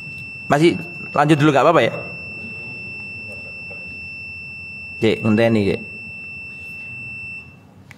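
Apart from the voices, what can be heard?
alarm beeping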